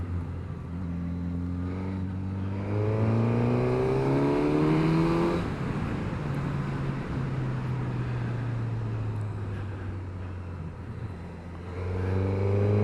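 A Suzuki GSX-S1000 inline-four motorcycle growls steadily through its airbox while riding, its engine tone rising and falling as it accelerates and eases off, with no talking.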